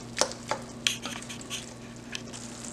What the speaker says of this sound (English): we're going to mix this all together and let it cook down